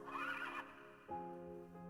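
A mare in a video game whinnies sharply, a high, wavering neigh followed by a steadier, tonal second call, close and clear with nothing else around it.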